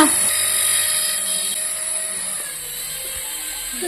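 A steady, high-pitched whirring motor of a toy helicopter hums continuously, close and fairly loud, with a faint voice briefly underneath.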